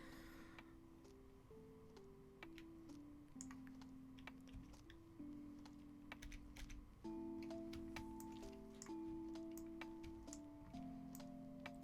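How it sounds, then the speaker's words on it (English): Someone types quickly and unevenly on a computer keyboard. Faint clicks and taps come in bursts over quiet background music, with no voices. "She's frantically typing on Streamlabs, I think."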